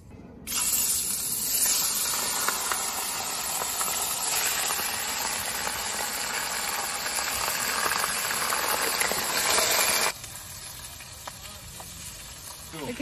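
Bighead carp sizzling in hot oil in a pan outdoors beside a camper van, a steady loud hiss and crackle that continues for several seconds, then drops to a lower, quieter sputter, with faint voices in the background.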